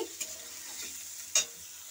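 Faint sizzling of ridge gourd and vegetables frying in oil with turmeric, with a couple of sharp scraping clicks from a spatula stirring the pan.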